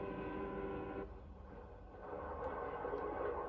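A 1950s passenger train hurrying through farm country, a steady rolling rumble of wheels and carriages that dips briefly and then swells again, heard alone at moderate distance.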